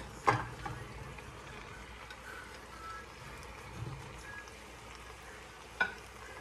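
Carrots added to a pot of frying vegetables for Moroccan couscous give a quiet, steady sizzle, with a few faint clicks and scrapes from stirring near the start and end.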